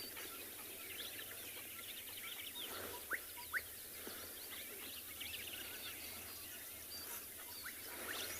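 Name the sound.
gorgeous bushshrike calls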